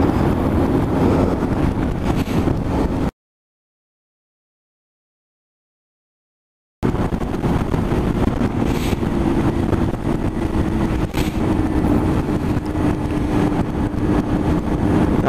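Steady roar of wind buffeting the microphone while riding a motorcycle past a scenic sunset view, loud and continuous, cut by a few seconds of silence near the start.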